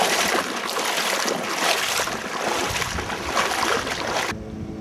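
Water surges and rushes steadily at a shallow shore as waves roll in, a broad continuous wash with a breezy edge, close and fairly loud, ending abruptly.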